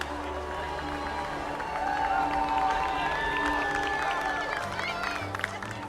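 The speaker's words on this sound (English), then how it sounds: "They are all clapping as people enter through the portals." At the opening day of Epic Universe, staff applaud and cheer guests walking through the portals, a steady wash of crowd clapping and voices with people talking nearby.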